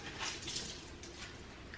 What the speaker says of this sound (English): I put it under a little bit of warm water to kind of soften it.